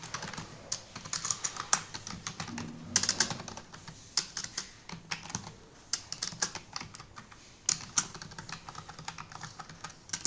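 Someone types login IDs on a computer keyboard while setting up a JDK installation on Windows, producing quick irregular bursts of crisp, close key clicks separated by short pauses.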